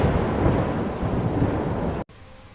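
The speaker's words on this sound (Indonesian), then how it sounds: "hujan pun turun dengan sangat derasnya" Heavy rain pours down steadily in a dense, close hiss with low rumbling underneath, loud and continuous, then cuts off abruptly near the end.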